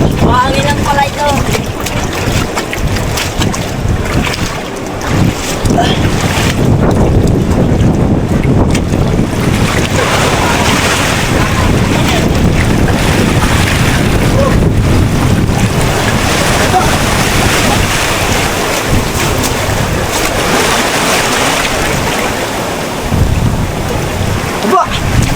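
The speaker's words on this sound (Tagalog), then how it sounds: "Mahangin lang pala ito." Strong wind buffets a boat at sea, a loud continuous roar of gusts and microphone wind noise over rushing water and waves for the whole stretch.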